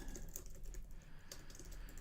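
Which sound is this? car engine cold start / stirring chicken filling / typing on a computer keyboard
typing on a computer keyboard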